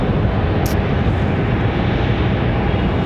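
An American Airlines Airbus A321 jet climbs out after takeoff at Raleigh-Durham International Airport, its broad steady engine roar loud and continuous with no talk.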